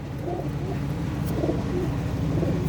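A white pigeon coos softly and repeatedly nearby, low throaty calls rolling one after another.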